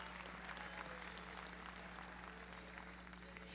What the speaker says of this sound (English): would you give them a nice round of applause?